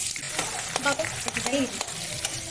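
Panch phoron spices hitting hot oil, a busy crackle with sharp pops and spatters and some stirring clatter, close and fairly loud, no voices.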